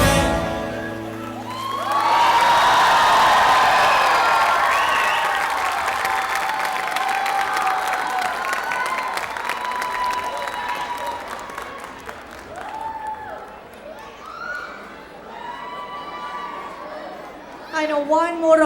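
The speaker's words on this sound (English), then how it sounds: "one more round of applause" After the music of a dance academy's summer show ends, the audience bursts into loud applause mixed with cheers and chatter, gradually thinning into scattered claps and overlapping voices.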